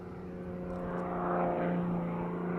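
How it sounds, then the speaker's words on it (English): Aerobatic propeller airplane in flight, a steady droning engine hum that swells slightly midway, heard alone at moderate distance. "But aerobatic planes are designed to fly upside down."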